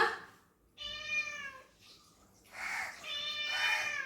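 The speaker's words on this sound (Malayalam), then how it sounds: "നല്ല സൈസുള്ള പൂച്ചയാണ്" A cat meows several times at close range, giving clear, drawn-out tonal calls in a quiet indoor setting with pauses between them.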